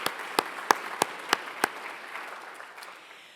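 A short burst of audience clapping at the 2023 Justice for Women Lecture, six or seven distinct claps at first, then thinning into a fading patter.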